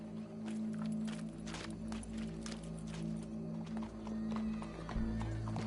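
A horse in the video game Red Dead Redemption 2 neighs and its hooves clip-clop steadily over a constant low hum and background music, with faint voices now and then.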